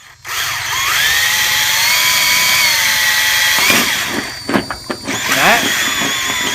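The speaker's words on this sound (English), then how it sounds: "we're going to start the drilling" A power drill whines steadily at close range, then bites and stutters through a vehicle's metal roof in uneven bursts toward the end.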